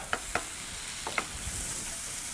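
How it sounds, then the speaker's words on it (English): Minced garlic sautéing in coconut oil, with a steady bright sizzle underneath and a few sharp utensil taps against the pan early on, close and fairly quiet. "we're going to saute that up a little bit"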